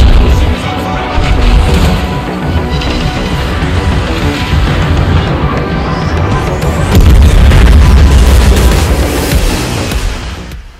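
A ship exploding in World of Warships during a battle involving a Tier 9 German cruiser Roon: a loud, continuous booming roar with crashing bursts that swells further in the second half, dense and close throughout.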